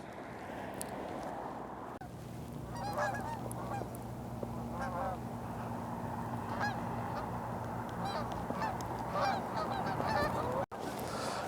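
Geese honk repeatedly near a lock on the Welland Canal, close by and overlapping, with a low, steady engine hum and light outdoor ambience beneath the calls throughout.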